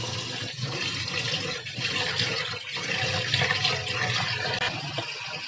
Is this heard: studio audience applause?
no